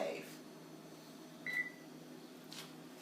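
A brand new Hotpoint microwave oven in a home kitchen gives one short, faint electronic beep as it is switched off, with a quiet room hum around it.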